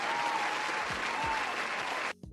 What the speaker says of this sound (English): We got applause.